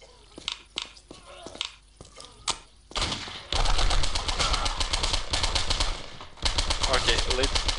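Gunfire in Postal 2, a few scattered single shots followed by dense, rapid sustained firing, loud and close, with someone talking briefly over the start.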